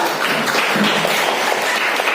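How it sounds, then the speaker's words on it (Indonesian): An audience applauds after a coding class presentation, a dense, even wash of clapping hands that stays steady and fairly loud throughout, without distinct individual claps. "Mohon tepuk tangan dulu"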